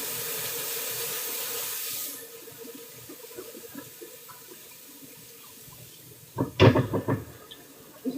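A running kitchen tap pours water in a steady rush for about two seconds while vegetables are washed, then cuts off, followed by quieter clatter and a few sharp knocks of handling near the sink.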